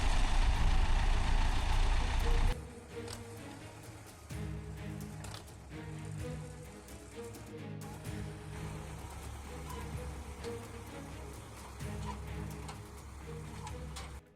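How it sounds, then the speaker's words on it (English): A green tractor hauls a loaded trailer slowly through waterlogged mud, its steady low engine drone running continuously under a busy, layered mix with other sounds after a louder opening. "The green tractor rolls slowly, hauling a loaded trailer toward a waterlogged mud pit."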